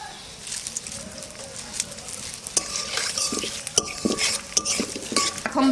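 Cumin, bay leaves and dried chillies fry in hot mustard oil in a wok under a low sizzle, while a spatula scrapes and clinks against the metal in irregular strokes.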